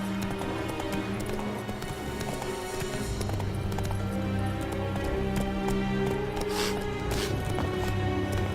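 Geralt's horse Roach galloping in The Witcher 3: Wild Hunt, a steady, close, rhythmic clip-clop of hooves that runs without pause over a constant ambient bed.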